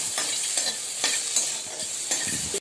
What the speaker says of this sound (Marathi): 2 मिनिटे छान परतून घ्यायचे आहे।